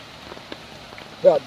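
Rain patters steadily on surfaces at night during village prawn fishing in Kerala, a soft continuous hiss with a few scattered drops, cut near the end by a short burst of voice.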